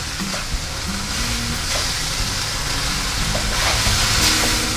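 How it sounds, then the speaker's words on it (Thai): Squid stir-fried in a pan for spicy Thai pad cha, with a steady, loud sizzle and the scrape of constant tossing running throughout, no voices. "ใส่หมึกลงไปแล้วก็ทำการผัดคลุกเขาทั้งหมดให้เข้ากันนะครับ"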